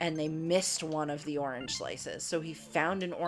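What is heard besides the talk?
No everyday noise stands out behind the speech.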